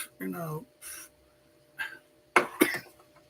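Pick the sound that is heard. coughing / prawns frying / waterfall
coughing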